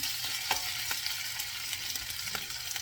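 Beef strips sizzle steadily in a hot pan as they are flipped, with a constant frying hiss broken by a few soft scraping stir sounds, close and moderately loud with no talking.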